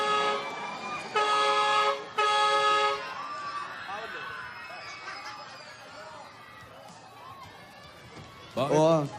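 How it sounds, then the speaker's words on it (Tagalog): A car horn honks in two long, steady blasts near the start, followed by a softer street-like background, with voices talking and a loud voice burst near the end. "Bumubusina pa, ayan na."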